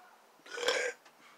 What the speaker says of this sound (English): if you don't know what that burp was for